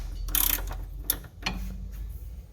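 A ratchet wrench works on the leaf spring bolts of a Ford Transit, giving a few short, close mechanical clicking bursts with pauses between them and no voices.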